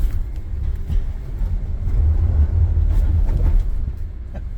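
A Jeep climbs a steep off-road demonstration course at an indoor auto show, with a low engine drone and rough rumbling from the tires working over the incline. Nearby clatter and knocks sound under the drive.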